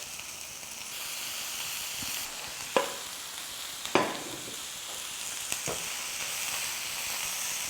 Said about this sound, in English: Red and green pepper cut into large pieces. Nicely stir fry.